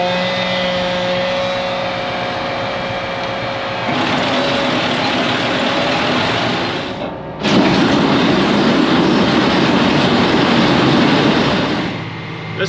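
A Kuhn VB 560 round baler baling corn fodder behind a tractor, a loud steady mechanical drone and rumble that rises in intensity, briefly dips, then resumes with heavy continuous clatter before easing off.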